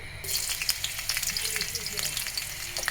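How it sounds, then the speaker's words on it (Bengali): Garlic frying in oil in a pan, a steady crackling sizzle with scattered sharp pops and occasional stirring scrapes, fairly close and continuous. "রসুনটা আমি একটু ভেজে নেব"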